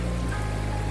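Heavy rain pours down in Pagudpud, a dense, steady hiss of drops hitting surfaces, loud and constant with no voices.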